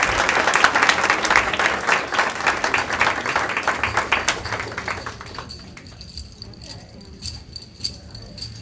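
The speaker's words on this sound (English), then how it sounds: "Let's give our students, coaches, and their families another round of applause." An audience at a school board of trustees meeting applauds students, coaches and families: dense, loud clapping for about five seconds that thins to scattered claps and fades into quieter room sound.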